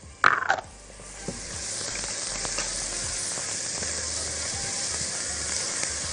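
Onions frying in a pan with cinnamon and bay leaf, a steady hissing sizzle that settles in after a couple of clattering spatula knocks at the start and continues evenly and close up.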